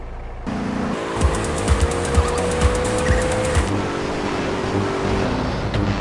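A car engine in the video game GTA San Andreas hums steadily for about six seconds with a rising revving tone and rhythmic thumps underneath, loud and close, with no talking.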